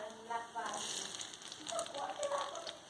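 Ginger and garlic sizzling in a hot pan while cooking soybean chilli, a faint steady crackle with light scraping from stirring, heard alone without talk.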